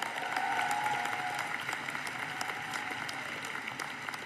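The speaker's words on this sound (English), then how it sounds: "Let's give them a round of applause." Commencement crowd applauding a college cross-country team for its record finish, a broad steady clapping wash that swells early and then holds at a slightly lower level.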